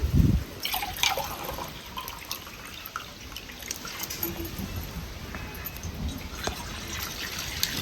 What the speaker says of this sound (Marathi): दोन तांबे पाणी घालते